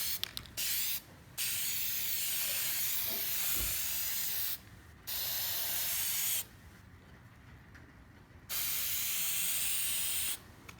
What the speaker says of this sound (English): I'm holding the camera in my hand and I'm spraying with the other hand